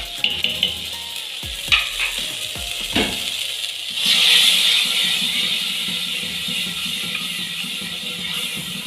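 Spices go into a hot pan with a few clinks of a spoon against the metal, then break into a bright, loud sizzle that settles into steady frying, close by.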